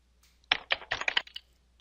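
A computer keyboard is typed on while entering a spreadsheet formula, giving a short burst of about six quick, close clicks followed by a fainter final tap.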